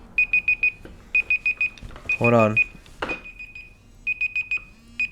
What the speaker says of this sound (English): there goes the fucking alarm.